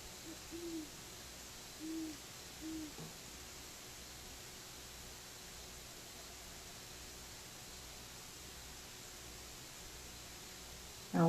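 Distant great horned owl hooting in a summer backyard, three soft low hoots spaced about a second apart over steady background hiss, with another owl faint in the background.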